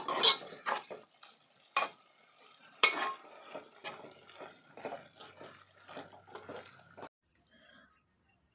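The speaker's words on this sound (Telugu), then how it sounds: "ఇప్పుడు ఒకసారి కలుపుకోండి మొత్తం" A spoon scrapes and clinks against a pan while bean and tomato curry is stirred, giving a series of irregular, fairly faint strokes and wet movements that stop before a short quiet stretch.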